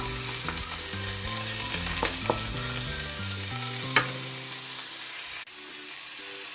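Beef is stirred into browned onions in a hot pan, giving a steady sizzle with the scrape and knock of a spatula at irregular moments, fairly close and without speech.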